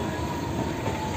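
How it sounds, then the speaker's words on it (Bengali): A Viswabharati Fast Passenger train on the Howrah to Bolpur line crosses slowly onto another track, giving a steady, close rolling rumble with a faint wheel squeal. "স্লোভাবে লাইনটাকে পাস করে অন্য লাইনে ঢুকছে, অন্য ট্র্যাকে ঢুকছে আমাদের ট্রেনটা"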